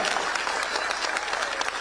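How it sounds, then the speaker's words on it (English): An audience at a student event applauds to welcome a woman giving a vote of thanks on behalf of the students, with steady, dense clapping throughout. "Why don't we welcome her with a clap?"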